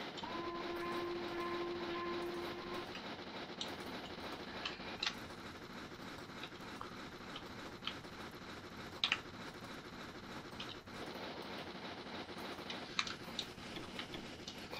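In Train Simulator, a steam locomotive runs on the Ffestiniog Railway, with a soft continuous rolling rumble, regular ticking and clicking, and a few sharper clanks at a moderate distance.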